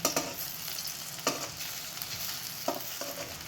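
Methi muthia shallow frying in oil in a pan, a steady bright sizzle broken by a few soft scrapes and knocks as the pieces are stirred and flipped.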